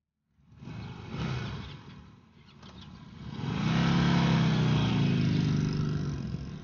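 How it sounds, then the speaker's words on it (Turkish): An engine turns over and catches, then settles to a rough idle before being revved up into a louder, steady droning roar that holds near and unbroken to the end. "Motoru çalıştır, çalıştır."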